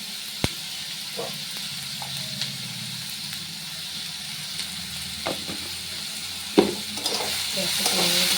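A pan of food frying with a steady sizzle, broken by occasional scrapes and knocks of stirring, with a louder clatter near the end.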